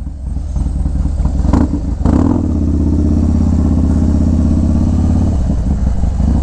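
A Harley Road Glide with a 107 engine and Star Racing 3030 cam rumbles close by, a loud, steady, lumpy engine note with a brief revving surge near the start.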